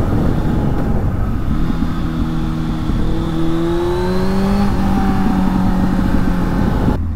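A Honda Hornet 600 motorcycle engine revs loud and close, its pitch climbing steadily through the gears and then settling, with no voices over it.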